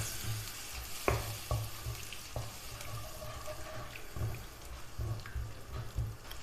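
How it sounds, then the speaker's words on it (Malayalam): Water is stirred into a simmering cauliflower curry gravy in a pan, with a spoon scraping and knocking against the pan in scattered clicks over a continuous soft bubbling hiss. "വെള്ളം ചേർത്ത് നന്നായിട്ടൊന്ന് ഇളക്കി യോജിപ്പിച്ചെടുക്കാം."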